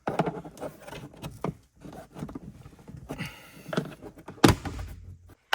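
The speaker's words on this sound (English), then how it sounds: "We're just going to pull back this piece of trim, and then we should be able to slide it out from the grill." Dash trim on a 2021 or newer GMC Yukon is pried back, giving a few close plastic clunks and knocks with shuffling handling noise between them, and one sharp pop near the end.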